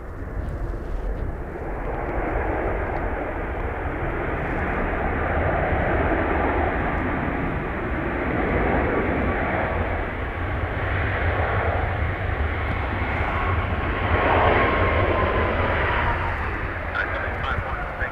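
Ryanair airliner on approach to Dublin Airport in blustery, gusty crosswinds, heard as a steady, loud broadband engine and wind roar that swells slightly toward the end, with voices at times.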